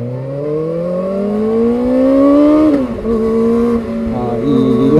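A Kawasaki ZX-4RR 400cc four-cylinder engine revs upward in a smooth rising howl while riding, drops back with a gear change, then climbs again, loud and close.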